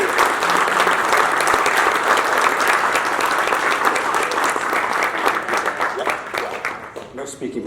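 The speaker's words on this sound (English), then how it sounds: "Can we get these guys a round of applause?" Audience at a nonprofit ribbon-cutting event applauding steadily, a dense sustained clapping that thins and fades toward the end, with some voices mixed in.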